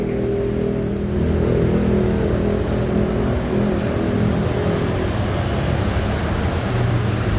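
A Honda HR-V's 1.8-litre i-VTEC car engine running steadily with a low, rumbling drone, close by and continuous, without clear rises in pitch.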